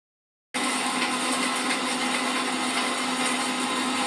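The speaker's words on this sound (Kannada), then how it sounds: "ಈ ಹುರ್ಕೊಂಡಿರೋಂಥ ಮಸಾಲೆನೆಲ್ಲ ಹಾಕಿ ನೀಟಾಗಿ ಎಷ್ಟು ಆಗುತ್ತೋ ಅಷ್ಟು ನುಣ್ಣಗೆ ಅದನ್ನ ರುಬ್ಕೊಳ್ಬೇಕು" After a brief silence, a mixer grinder starts up and runs steadily, its loud whirring blades grinding roasted masala with coconut, coriander and dried chillies into a fine paste.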